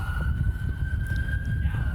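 An ambulance siren holds a steady wailing tone on a city road, heard over low rumbling traffic and wind noise while a skater travels along the street.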